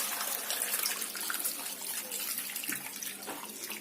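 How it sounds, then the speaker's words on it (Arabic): Water pours in a steady, soft gushing stream into a cooking pot, with no break and no speech. "ونخويها في الطنجره صافي، وغندير عليها الكميه ديال الماء"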